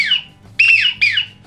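A squeaky, whistled wigeon duck call sounds in three sharp bursts, each a high falling whistle, the first fading before two quick louder ones.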